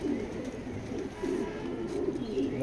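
A Kitel line male pigeon coos close by, giving a continuous low rolling murmur that rises and falls with no talk.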